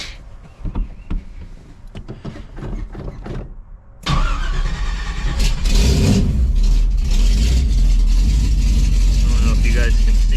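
A car engine is cranked at the start of a sound system check, then catches and runs, a loud steady drone close by that follows a stretch of talking and other noises.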